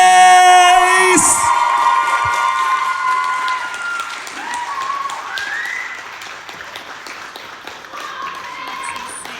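A crowd applauds and cheers for contestant Grace at a live quarter-final talent show, with steady dense clapping and whoops from a large audience, loud at first and easing slightly while the ovation carries on throughout.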